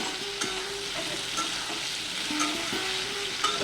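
Eggplant slices frying in oil in a pan for a pickle, with a continuous close sizzle and light stirring scrapes running steadily throughout, no voices.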